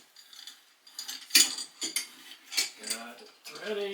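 A bathtub spout with a diverter being threaded onto its pipe: metallic clinks, scrapes and ratcheting rubs in irregular bursts, close and moderately loud, with brief faint vocal sounds near the end.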